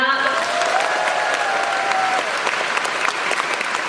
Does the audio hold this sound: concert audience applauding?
yes